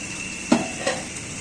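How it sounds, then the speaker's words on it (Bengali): A metal lid set onto a pot of simmering eggplant curry in a home kitchen, giving two quick clinks about a third of a second apart, close and moderately loud over faint background hiss. "এবার একটা ঢাকনা দিই।"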